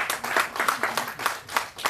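An audience at a memorial award ceremony and book launch in India claps in short, uneven bursts, moderately loud and close, with no voices over it.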